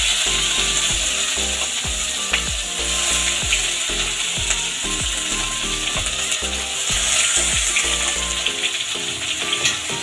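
Onions frying in hot oil in a pan for an egg curry, a loud steady sizzle with regular scraping strokes of a spatula, close up and without voices.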